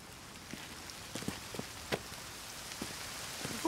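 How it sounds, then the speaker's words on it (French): Rain falling in a scene from the zombie drama All of Us Are Dead, a steady close wash of rainfall on surfaces with scattered louder drips and splats, no voices. "Ouais, ça y est, il pleut enfin."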